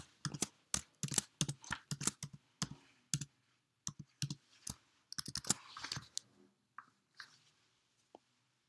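Quick bursts of keystrokes on a Mac computer keyboard as a password is typed, crisp close clicks in irregular clusters with short pauses, ending in a few isolated taps.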